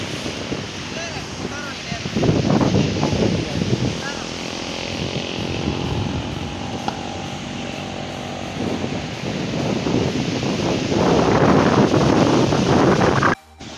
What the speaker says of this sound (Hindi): गाइज आपको आवाज़ आ रही होगी समुंदर की, कितनी स्पीड से पानी आ रहा है।